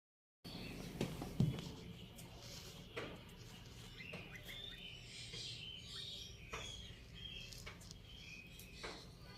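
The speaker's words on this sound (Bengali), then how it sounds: "অনেকগুলা শালিক, চড়ুই, তারপরে যে কুলঝুটি, অনেক ধরনের পাখি আসে এখানে," Mynas, sparrows, bulbuls and doves feed at a window, giving faint scattered chirps and squawks over a low hum of insects, with a few louder close calls now and then.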